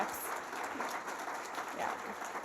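Brief applause from a small audience at an annual general meeting, a soft scattered patter of clapping that is fairly quiet and continuous.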